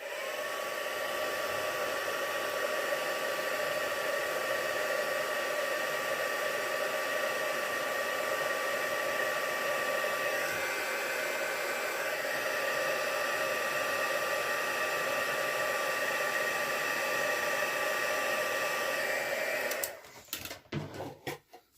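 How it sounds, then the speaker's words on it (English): Electric heat tool melting white embossing powder on a stamped card, a steady loud whooshing blower drone that runs unbroken for about twenty seconds before cutting off, with a few faint clicks and handling sounds at the end. "And I'll just heat emboss it, won't be a moment."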